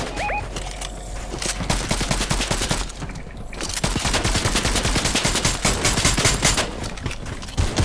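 Dense gunfire in the Fortnite Battle Royale video game, loud and continuous, with rapid bursts and overlapping shots filling the whole stretch, a couple of short tonal blips near the start.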